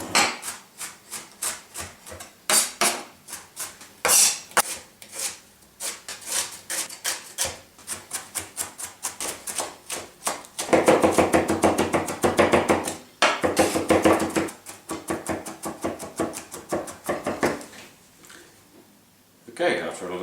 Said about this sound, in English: Okay, after a lot of chopping, we now have our white and red onions chopped up fairly finely and mixed